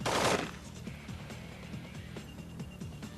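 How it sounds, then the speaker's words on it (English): A burst of M16 rifle fire strikes a brick exterior wall from an angle: a loud opening crack followed by a rapid string of sharp, echoing shots at moderate distance. "a burst of M16 rounds from 45 degrees was also unable to penetrate the brick exterior wall"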